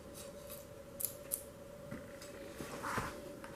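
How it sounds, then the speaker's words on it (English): A blade trims excess masking tape along the edge of a postwar camera frame, with a few faint, close scraping cuts and light ticks over quiet room hiss. "Take your blade, go along that edge, cut the excess off."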